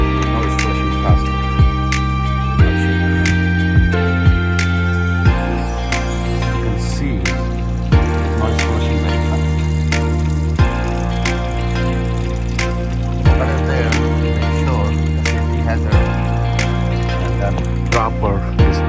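Coolant flushes through a Toyota Tacoma radiator in a steady, continuous rush of running liquid, close and moderately loud, with someone talking over it throughout.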